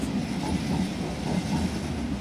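An ICM train at Den Haag Centraal station, a steady low rumble and hum of wheels and motors, fairly faint and continuous with no talking.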